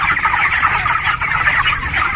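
Twenty-day-old broiler chickens on a poultry farm keep up a dense, continuous chorus of peeping and clucking, loud and close.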